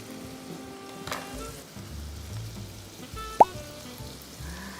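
Del Monte Filipino-style tomato sauce goes from a pouch into a hot pan with a soft plop, and a low, steady sizzle of frying follows.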